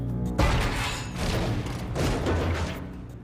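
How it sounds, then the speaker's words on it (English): A sharp boom opens a sustained, rumbling barrage of heavy artillery fire from hundreds of guns, with repeated swelling waves of blasts rolling on without pause. "It begins with an artillery barrage by 700 Allied guns."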